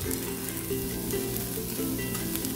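Masala and onions sautéing in a pot for a soya chunks biryani, a steady close sizzle with soft stirring scrapes running throughout, no voices.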